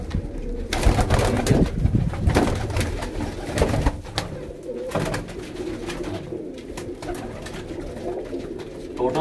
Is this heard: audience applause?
no